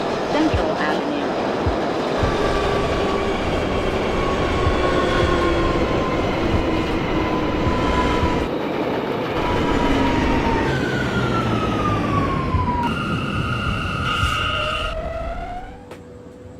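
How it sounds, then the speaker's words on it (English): Manhattan-bound M local subway train in the OpenBVE train simulator game running loudly with steady rumbling wheel noise and rising and falling motor whine, continuous and close throughout before easing off at the end. "This is a Manhattan-bound M local train."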